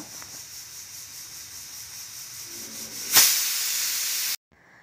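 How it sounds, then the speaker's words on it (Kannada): A pressure cooker holding dry horse gram sits quietly with a low hum, then its whistle bursts into a loud, sharp steam hiss that lasts about a second before cutting off abruptly. "ನಾನಿಲ್ಲಿ ಫಸ್ಟು ಮೂರು ವಿಷಲ್ ತ್ರೀ ವಿಷಲ್ ಮಾಡ್ಕೋತೀನಿ"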